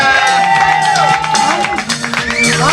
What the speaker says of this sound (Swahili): Wapi makofi ya Brianna.